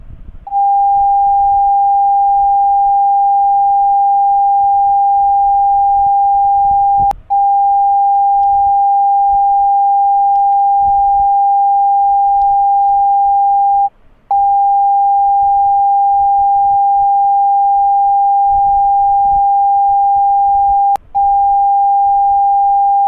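Redmi Note 8 phone speaker running its self-cleaning function, emitting a loud, steady high tone held for over twenty seconds, broken only by three very brief gaps at regular intervals.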